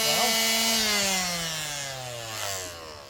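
Car body under rust repair being sanded with 180-grit sandpaper, a loud, close motor whine that drops steadily in pitch as the tool spins down over about three seconds.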